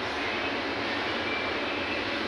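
Two-piston, two-spark-plug pump engine on a sewer line cleaning machine, running as a loud, steady roar with a broadband rushing hiss, close and unchanging throughout.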